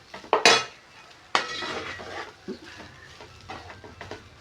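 Garlic fries in a pan while being stirred, with sharp metallic scrapes and clanks of a spoon against the pan over a soft, steady sizzle.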